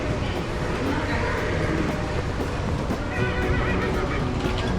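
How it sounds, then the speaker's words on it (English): Horses neigh and whinny in a barn at a county fair, with hooves clip-clopping and a busy crowd murmuring around them; people talk nearby. "Ooh, they're neighing."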